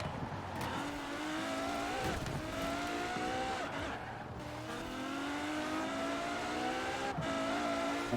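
An Apollo Intensa Emozione race car in Forza Horizon 4 revving hard through repeated gear shifts, its high V12 engine note climbing and dropping several times, with tire squeal and braking, loud and continuous without speech.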